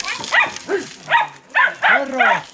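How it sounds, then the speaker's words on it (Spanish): Dogs bark and yelp in a rural setting, several sharp, close calls spaced across a few seconds, with a voice speaking between them. "¡Estos perritos!"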